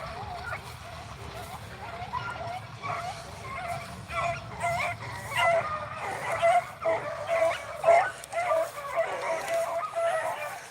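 A pack of beagle hounds bays and yelps on a rabbit trail in repeated bursts at a middle distance, the barking growing more frequent and louder toward the end.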